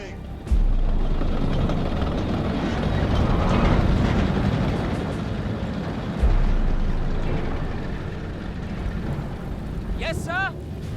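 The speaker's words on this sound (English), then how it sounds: "Panzer is moving." A Panzer tank moving in the video game Company of Heroes 3, a loud, steady low engine rumble and tread grind, with a brief high electronic warble near the end.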